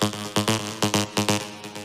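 Arpeggiator synth preset in an electronic track: a bright plucked tone stepping through rapid repeating notes in an even pulse, moderately loud and alone, with no voices.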